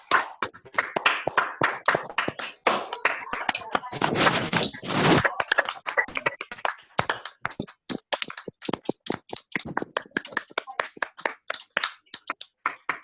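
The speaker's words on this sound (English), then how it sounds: "if you've enjoyed the speeches, let's applaud our 3 speakers" Online meeting participants applaud three speakers, with several people clapping through their microphones in a long, uneven run of close, sharp claps.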